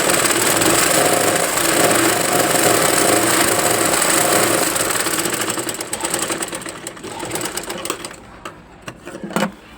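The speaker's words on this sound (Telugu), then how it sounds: "ఇప్పుడైతే స్టిచ్ చేస్తున్నా. టాప్ స్టిచ్ అనమాట, లాస్ట్లో ఎండింగ్." Sewing machine top-stitching tent cloth, a loud continuous mechanical whir held steady for several seconds, then slowing and stuttering into shorter runs before stopping.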